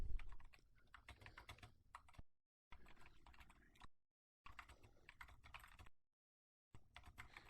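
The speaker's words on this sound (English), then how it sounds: "I'm just going to keep on typing some stuff" Rapid clicking keystrokes on a computer keyboard come in steady close-up bursts, broken by a few short silent gaps.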